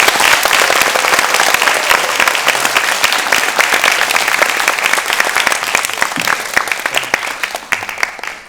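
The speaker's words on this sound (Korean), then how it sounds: "큰 박수 부탁드립니다" Sustained applause from an audience at a Korean National Assembly suicide-prevention forum seminar, dense steady clapping filling the room throughout and easing slightly toward the end.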